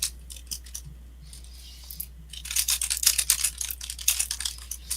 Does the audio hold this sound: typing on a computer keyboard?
yes